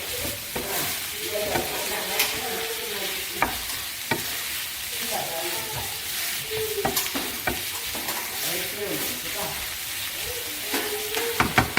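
Mushroom thoran is stirred in a pan, with a spoon scraping steadily through the sizzling mixture in repeated close strokes that continue over a constant background of frying.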